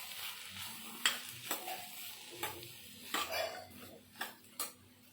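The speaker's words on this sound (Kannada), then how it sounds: "ಈಗ ಇದನ್ನು ಮಿಕ್ಸ್ ಮಾಡ್ಕೋಬೇಕು." Idli upma is stirred in a pan: a faint sizzle runs underneath while a spoon scrapes and clinks against the metal in irregular strokes, each knock distinct and close.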